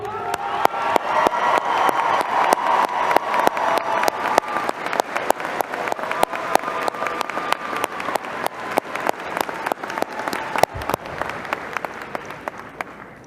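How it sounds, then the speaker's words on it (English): Sustained audience applause fills a graduation commencement ceremony hall, dense steady clapping with a few scattered whoops, holding loud for about thirteen seconds before thinning slightly near the end. "let's give them a round of applause."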